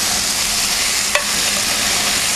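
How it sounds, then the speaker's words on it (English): Chicken returned to a hot pan of mushrooms for chicken marsala sets off a steady, close sizzle, with one brief clack of meat or utensil landing near the middle. "Then I'm going to add my meat back to the pan."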